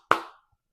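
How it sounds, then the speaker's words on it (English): A single sharp hand clap from a home cook celebrating pulled pork barbecue, close and crisp, decaying quickly into silence. "I have to give myself an applause on this."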